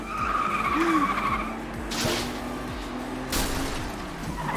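Opponent cars' engines and skidding tires in the FlatOut 2 racing game, a mix of engine drone and screeching slides rising and falling over a few seconds, with occasional bursts of impact noise and no speech.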